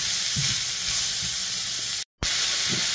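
Watermelon rind sautés in a pan with a soft, steady sizzle and hiss, a few low clatters of stirring, and a brief dropout partway through.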